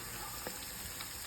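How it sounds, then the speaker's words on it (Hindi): Fish fries in a pan with a steady, faint sizzle that carries on without a break. One or two soft clinks can be heard now and then, and no one speaks. "इधर फिश फ्राई हो रहा है।"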